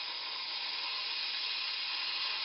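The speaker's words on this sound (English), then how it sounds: "Put a little steam down the drain trap as well, and the condensate line." A steam cleaner blasts steam into an indoor HVAC system's drain trap and condensate line, giving a steady, loud, unbroken hiss with no voices.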